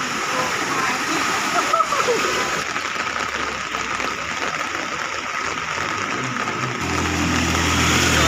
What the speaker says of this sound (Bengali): জলের কারেন্ট দেখতে পাচ্ছ বন্ধুরা, জলের কারেন্ট অনুভব করতে পারছো